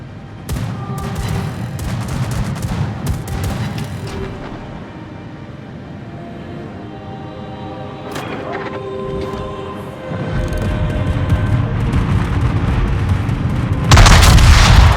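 Heavy naval guns of the battleship HMS Hood fire in a warship video game, repeated deep booms rolling under a dense rumbling battle din, with a louder blast burst at the very end.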